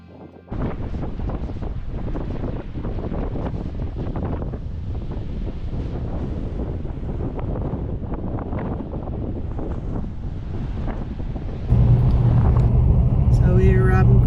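Strong wind at Ferry Beach North in Innes National Park, a loud continuous buffeting roar over the microphone, growing heavier near the end, with a voice speaking over it.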